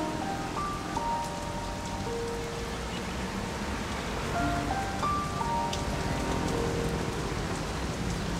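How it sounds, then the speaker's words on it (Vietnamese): Steady rain falls in an animated cartoon, a constant even patter with no break, joined by a few light melodic tones. "Ôi, trời lại đổ mưa nữa rồi đây này."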